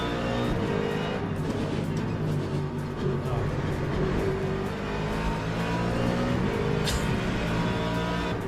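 Race car engines in the sim racing game Le Mans Ultimate roar steadily, several cars running close together in traffic, with continuous loud high-revving drone and shifting pitch through the whole stretch.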